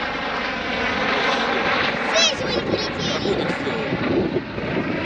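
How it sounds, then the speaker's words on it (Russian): A helicopter flies over an airfield where gliders are flown, making a steady, loud rotor and engine drone throughout. Wind buffets the microphone and people talk over the noise. "Вертолет."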